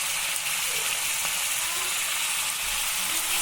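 Onions, tomatoes, ginger and garlic fry in butter in a pan for paneer butter masala, giving a loud, close, steady sizzle and hiss with no talking.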